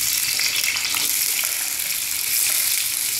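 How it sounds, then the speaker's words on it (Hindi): Onion frying in hot oil for Indian-style macaroni gives a loud, dense, hissing sizzle that holds steady and close throughout, with a light stirring scrape under it. "तेल गरम हो चुका है, इसमें प्याज डालेंगे"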